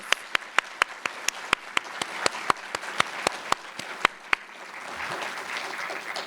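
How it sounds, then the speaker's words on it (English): Audience applause welcomes a keynote speaker at a Black History Month university event, with loud, regular close claps from one person over a broader crowd of clapping that fades into room noise. "Let's give him a hand of applause."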